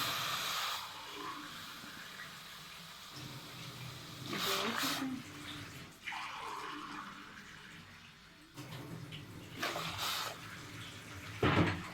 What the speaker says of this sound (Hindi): और ये 3 गिलास हम पानी डालेंगे